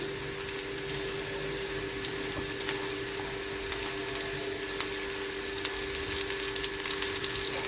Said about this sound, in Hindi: इसे मज़ीद 1 मिनट तक फ्राई करेंगे।